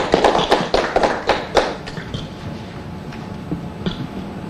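Audience applause for a speaker at an oil and gas event, scattered claps loud at first and thinning into a quieter, sparser patter.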